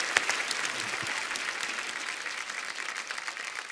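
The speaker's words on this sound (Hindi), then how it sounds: "जोरदार तालियां गुलाटी साहब के लिए" Studio audience at a Hindi television comedy talk show bursting into sustained applause, a dense steady wash of clapping that stays loud and even throughout with no talking over it.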